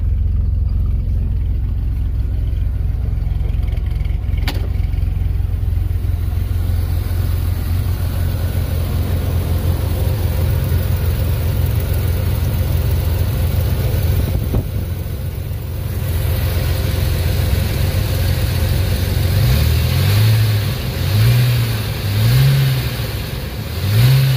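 A 1994 GMC Jimmy 4x4 engine running steadily while driving, a loud continuous rumble with the engine revving up and down in short surges toward the end.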